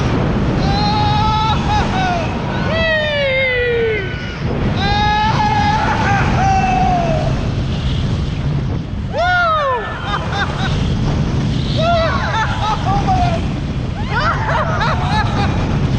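Front-seat ride on the Piraten roller coaster at Djurs Sommerland in Denmark, a loud constant rush of wind and track rumble with riders' screams and shouts rising over it in bursts.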